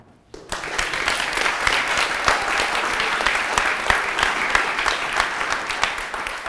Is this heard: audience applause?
yes